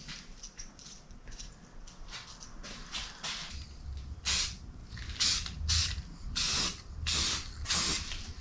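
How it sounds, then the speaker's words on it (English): Patio heater parts being spray painted with an aerosol can, a series of short hissing bursts that grow longer and louder toward the end, close up with no talking. "Okay, so I'm going to paint these two."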